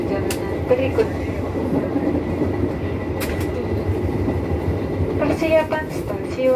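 The Pandalungan executive train on the Jember to Jakarta line rumbles along steadily with a dense, rolling rail roar, faint squeals and clicks, and muffled voices in the carriage.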